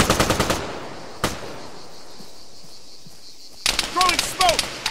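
Bursts of machine-gun fire in the Arma 3 military shooter, loud rapid rattles at the start and again near the end, with a lone shot in between and a quieter stretch of ambience.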